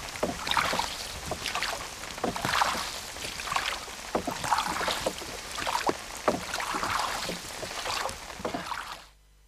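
A small wooden sculling boat rowed on Taiping Lake, its oar knocking and creaking in a steady rhythm of strokes against lapping water and light wind, close by with no talk, ending abruptly.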